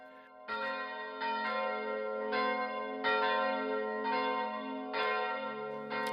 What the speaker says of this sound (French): lui confie la charge d'aller faire sonner les cloches du temple tous les dimanches matins